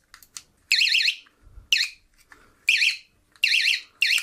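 An electronic fishing bite alarm gives loud, sharp warbling beeps in short bursts, four main pulses with gaps between, close and clear.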